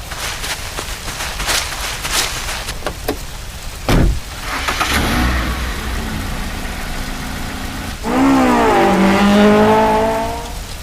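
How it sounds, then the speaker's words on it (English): A car engine starts, idles and then revs up as the car pulls away, loud and close, with a sharp knock partway through. "All right, everyone, hurry and get into Fuzzy's car."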